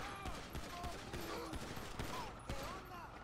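Gunfire in GTA 5 during an LSPDFR police gang-unit shootout: a dense fusillade of shots and bursts over a noisy background of game sound, with occasional voices.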